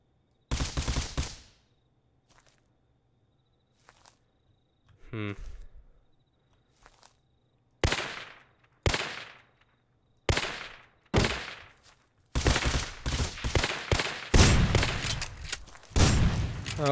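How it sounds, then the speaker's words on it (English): Gunfire in the video game Rust, with loud, close shots and rapid bursts separated by silence, growing into dense volleys toward the end, with a brief sweeping game sound in between. "Shit, he's shooting him."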